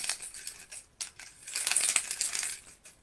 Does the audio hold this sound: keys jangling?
yes